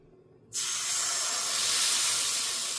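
Ragi batter hits a hot palappam pan and bursts into a loud, sustained sizzling hiss that starts abruptly after a quiet moment and holds steady, close and strong.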